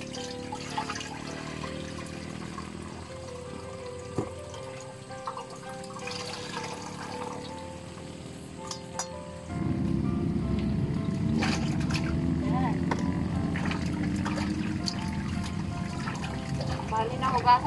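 Shredded dried fish is washed in water for ginataang gabi in a rural home, with quiet handling and clinks at first, then a sustained rush of running, splashing water; a voice speaks over parts of it.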